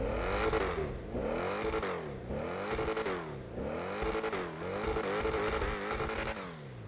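Imported car in the GTA 5 video game revving hard, its engine tone climbing and dropping in repeated sweeping cycles, loud and close, with no talk over it.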